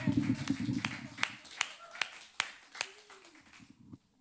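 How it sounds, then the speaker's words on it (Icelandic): Hands clapping in a church service as the congregation applauds the worship musicians, sparse and uneven single claps spaced about every half second, over a low murmur of voices that fades out. "Hvernig væri að gefa þessum snillingum gott klapp?"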